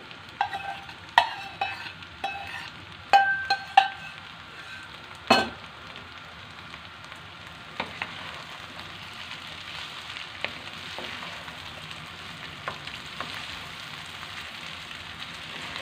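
Peas being stirred into rice frying in a pot for a carrot and pea pilaf, soft sizzling under a few sharp clinks and scrapes of a spoon against the pot, with no talk.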